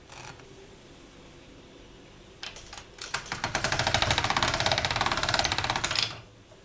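Polymer clay cane is fed through a hand-cranked pasta machine on its thickest setting, giving a fast, steady ratcheting clatter that starts after a few clicks and runs loud for about three seconds before stopping.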